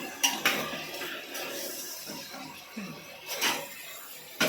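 Masala paste is stirred into oil in a pan for a kurma, with a few metallic clinks and scraping strokes of a spoon against the pan, close and moderately loud.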